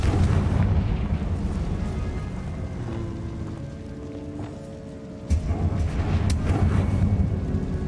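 Confringo fire spell blasts in Hogwarts Legacy, a continuous rumbling, crackling roar of explosions that dips in the middle and surges again with a loud burst near the end, with game music underneath.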